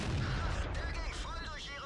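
A tank cannon fires in World of Tanks, a loud, dense, rumbling blast that fills the moment and slowly fades, with a voice faintly under it.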